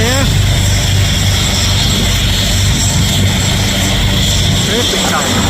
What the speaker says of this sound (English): They're going to see a helicopter go up it today